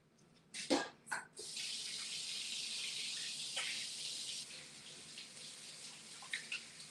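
Tap water runs steadily into a kitchen sink during hand washing after making meatballs, a sustained close hiss that starts after a couple of knocks and continues for several seconds without talk.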